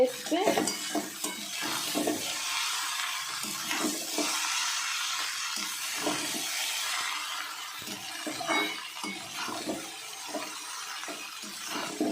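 Chowmein tossed and stir-fried in a hot wok on a winter night, a steady hissing sizzle broken by repeated scraping and clattering of the spatula against the pan, close and fairly loud throughout with no talking.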